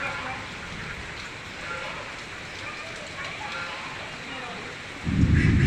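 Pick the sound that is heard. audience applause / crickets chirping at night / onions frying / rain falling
rain falling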